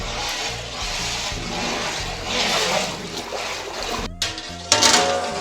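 Twenty litres of water with salt and zarda food colour being stirred in a large pot, a steady swishing, sloshing churn with a couple of louder splashy sweeps near the end.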